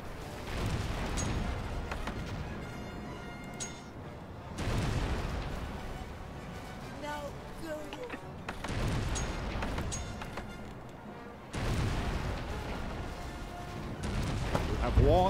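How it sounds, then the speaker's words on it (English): Cannon fire hits a ship in the strategy game Anno 1404 Venice, heard as repeated booming volleys in several bursts over a steady game music bed, with a voice speaking over the action. "The enemy is attacking one of your ships. Your ship is the target of enemy fire."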